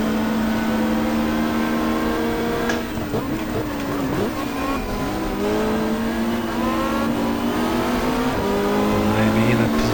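Touring car engines in the GTR2 racing game, including a Volvo estate in the 1995 Australian Super Touring Championship at the Gold Coast Indy circuit, a loud sustained engine drone rising and falling through gear changes, with commentary talking over it.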